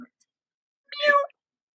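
A person imitates a cat with a single short, high-pitched meow, close and clear, with no other sound around it.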